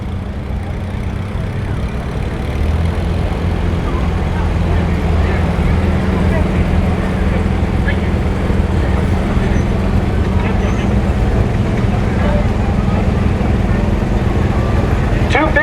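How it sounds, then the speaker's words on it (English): A 1946 Ford 2N tractor rolls past in a small-town pioneer days parade, its engine a steady low rumble that holds throughout, mixed with outdoor crowd and traffic noise. "is a 1946, Ford 2N, owned by Jason Hansen from Herman, Minnesot"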